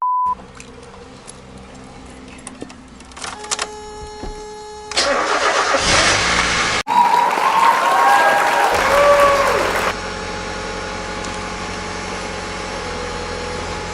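A car engine cranks and catches for its first start after a clutch master and slave cylinder replacement, then settles into a loud, steady idle that drops to a lower, even hum, with no one speaking.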